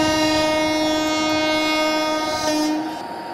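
A train rolls along steadily in an Indian train simulator game while its horn sounds as a sustained, loud, steady tone almost throughout, fading slightly near the end.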